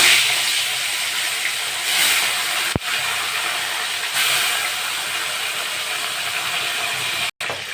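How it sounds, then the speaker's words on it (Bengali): Tilapia frying in hot mustard oil makes a constant dense hiss and sizzle, loud and close, broken by one sharp knock near the middle and a brief dropout near the end. "মাছগুলো ভেজে নেব"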